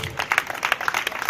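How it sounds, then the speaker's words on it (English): Church congregation clapping during a lively revival service, a dense run of overlapping handclaps with an irregular, fast rhythm, fairly close and steady throughout. "Joseph, clap for Jesus."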